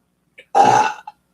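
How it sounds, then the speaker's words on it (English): A single loud, throaty burp lasting about half a second, close and clear, with a couple of tiny clicks just before and after. "and that was a burp"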